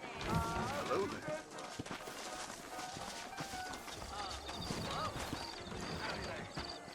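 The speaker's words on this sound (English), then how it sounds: "I got the horses saddled up and ready out front." Horses in the western video game Red Dead Redemption clip-clop at a trot and whinny, with close, rhythmic hoofbeats running throughout amid game sounds and faint background.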